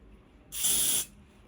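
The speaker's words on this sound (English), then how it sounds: "I like to spray on the end of the comb and tap it" Hair spray from an aerosol can hisses in one short, close burst of about half a second onto the end of a comb.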